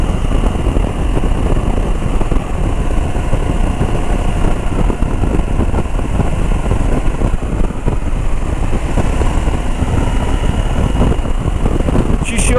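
A KTM 790 Adventure motorcycle engine running steadily, a loud, close, continuous rumble that holds even throughout, with no clear revving changes.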